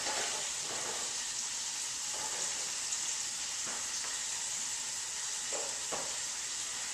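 Kashi cereal coated shrimp fry in hot oil, giving a steady, dense hiss of sizzling with a few soft thumps and stirs, constant and close throughout.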